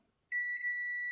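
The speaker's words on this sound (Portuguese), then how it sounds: "Quando você toca na ponta, ele mostra um bip para você." Multimeter continuity test on a fuse or thermal fuse, a single sustained electronic beep that starts abruptly and holds a steady pure tone, clear and close in a quiet room.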